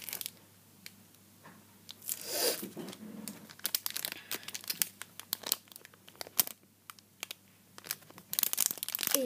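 Bubble wrap packaging around porcelain cups crinkles and crackles as it is peeled and unwrapped, with irregular close rustles, tearing sounds and sharp crackling pops, and no talk.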